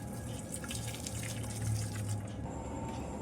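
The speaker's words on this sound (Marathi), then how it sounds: "आता आपण ही चाळणीत भाजी निथळून घेऊया" Water from boiled wild greens (takla) pours through a kitchen sieve in a steady, even trickling rush that lasts throughout.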